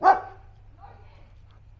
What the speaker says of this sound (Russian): Вот она лает, стоит.